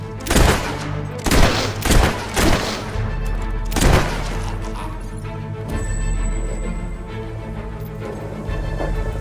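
Gunfire in the Fable 3 video game: several loud, heavy shots in quick bursts during the first four seconds, followed by a steady low rumble of battle ambience.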